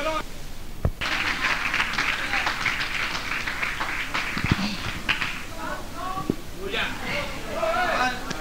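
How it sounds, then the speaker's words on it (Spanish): A church congregation claps during a Spanish-language sermon, with scattered applause and voices over it, some louder individual claps standing out. "Denle un aplauso al Señor."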